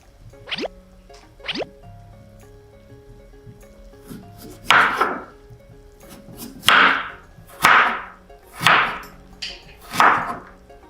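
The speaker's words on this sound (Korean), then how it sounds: "당근을 어떻게 썰지? 길게 썰수 있을까?" A knife cuts carrots into long strips on a board while japchae ingredients are prepared, giving a few sharp strokes and then a steady run of louder, rhythmic cuts close by.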